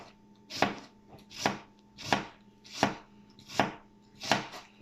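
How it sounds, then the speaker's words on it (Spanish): A knife slices an onion into very thin julienne strips on a cutting board, with six sharp, evenly spaced chops at a steady rhythm, close and clear, and no talking. "Ahora voy a proceder con el corte Juliana, que es el corte sumamente delgado,"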